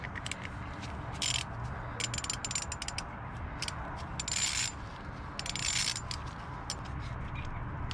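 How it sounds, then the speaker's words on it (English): T30 Torx driver removing a stripped water pump gear on a Can-Am Maverick X3, close, faint ratcheting clicks in short irregular bursts with light metallic mechanism sounds between them, with no talking. "This gear is stripped too, so I'm gonna have to remove it. T30 Torx."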